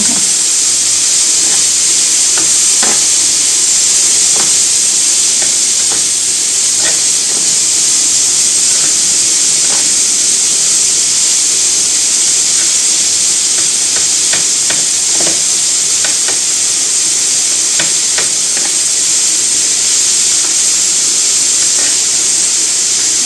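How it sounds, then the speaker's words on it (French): Diced potatoes, squash and lardons frying gently in a pan, a loud continuous sizzle and hiss with scattered pops and occasional stirring scrapes, close by and with no speech. "on va les faire revenir tout doucement, mais sûrement."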